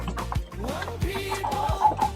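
Roosters in a poultry yard cluck in short, choppy bursts, with several birds overlapping at close range and a few rising, drawn-out calls near the end, without any speech.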